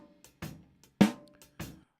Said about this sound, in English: I've got a snare track here with some bleed from the rest of the kit.